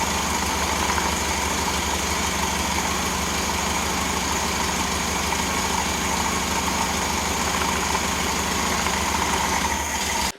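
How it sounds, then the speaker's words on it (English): A 1975 Volkswagen Super Beetle engine, revived after sitting for 20 years, idles at a steady, even rumble with a constant mechanical drone, close and unbroken throughout with no voices. "Idling."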